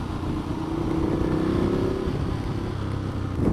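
A Ducati Multistrada 1200 motorcycle rides through wind and sideways rain, its engine a steady close drone under broad rushing wind noise throughout, with no speech.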